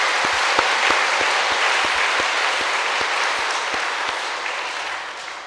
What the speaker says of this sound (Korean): 지난 반년 동안 우리에게 놀라운 은혜를 베풀어 주신 하나님께 영광의 박수를 올려드리겠습니다.